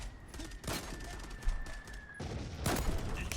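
Bursts of gunfire in the online shooter Zula, with rapid crackling volleys separated by short gaps at a moderate level.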